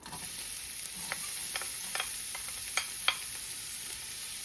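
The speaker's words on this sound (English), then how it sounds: "I'm gonna put the oil, olive oil. And I'm gonna put the onion" Onion frying in olive oil in a pan, giving a steady hiss of sizzle with a few soft stirring scrapes and clicks, close and alone without talk.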